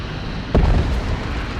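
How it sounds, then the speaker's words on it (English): A cannon blast rings out in a Warhammer battle game, a single loud, deep boom that rises suddenly and rumbles on under a steady din of combat noise. "a final shot from the cannon finishes off that shooter boy squad"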